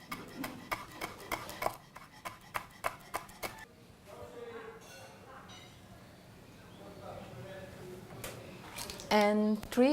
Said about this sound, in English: But the first thing we need to chop them.